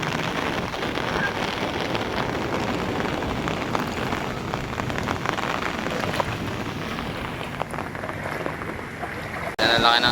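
Strong waves at high tide during a typhoon surge and crash in a continuous loud wash of water, with wind rushing across the microphone and a brief break near the end.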